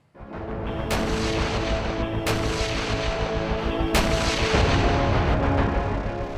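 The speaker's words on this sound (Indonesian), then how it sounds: "Dengan kerusakan masif yang ditimbulkan artileri, kerap dijuluki rajanya medan pertempuran." A self-propelled artillery cannon fires three loud, sharp blasts spaced about one and a half seconds apart, each followed by sustained rumbling and roaring that fills the whole stretch.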